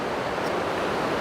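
Rushing river water near Moose in Grand Teton National Park, Wyoming, tumbling almost like a waterfall: a loud, steady, close wash of broadband noise with no pauses.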